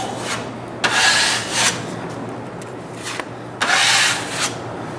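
A drywall knife spreads and feathers joint compound mud, giving repeated scraping strokes in bursts, two longer passes and a few short ones, close and clear with no talking over them.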